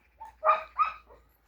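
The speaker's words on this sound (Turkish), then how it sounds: "Köpek budur." A Kayseri-bred dog with a grey-eyed coat gives a few short barks mixed with whimpering yips, close by and clear against a quiet background, in quick succession over about a second.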